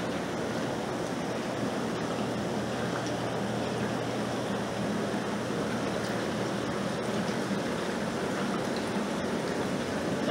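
A hot tub runs steadily in a room at night, giving a continuous broadband rush of bubbling, churning water that stays even and unbroken from start to finish, with no talking.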